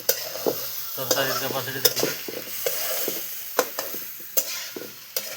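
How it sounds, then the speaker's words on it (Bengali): Potatoes frying and being stirred in a pan for a village-style egg curry, with a steady sizzle and repeated scraping clicks of the spoon against the pan, close and moderately loud, with brief speech over it. "আলুটা পুরো ভালোভাবে ভাজে নিব"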